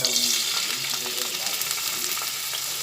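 Steady, loud sizzling of chopped onions frying in hot oil, a continuous crackle with a few soft stirring sounds.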